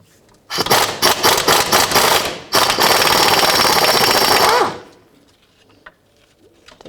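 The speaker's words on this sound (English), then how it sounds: "I'm going to take a 14mm socket and I'm going to take that nut off and that nut off" A ratchet with a 14mm socket loosens a sway bar bracket nut on a 2002-2006 Nissan Altima, giving a burst of close, loud rapid clicking, a short pause, then a sustained run of ratcheting that fades to near quiet.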